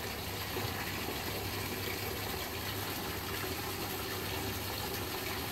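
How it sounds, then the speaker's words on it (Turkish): Water runs steadily into a bucket being filled partway for mixing cement mortar on a house insulation job, a continuous even rushing gush with no pauses and no talk. "3'te 1'ini suyla dolduracağım kovamı"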